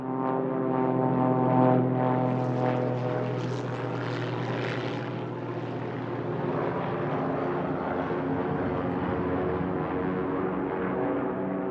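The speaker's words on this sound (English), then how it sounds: "Then came mind-numbing dive bomb attacks by the Stukas." A Stuka dive bomber's propeller engine roars loudly, the pitch rising and swelling as the plane dives, then holding a heavy, continuous drone.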